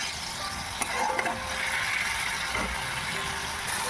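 Spice masala for ghugni sautés in a pan, a continuous soft sizzle and frying hiss with faint stirring scrapes, steady and close throughout.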